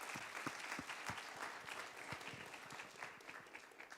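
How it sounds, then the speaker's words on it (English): Audience at a TEDx education event in Luxembourg City applauding, with many hands clapping in a lively, even patter and a few sharper claps standing out, fairly quiet overall. "can I have a round of applause for everybody that represents the Ministry of Education?"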